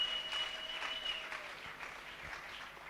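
A church congregation at a religious gathering applauds the Lord with sustained, dense clapping that stays fairly even throughout, with a thin steady tone running beneath it.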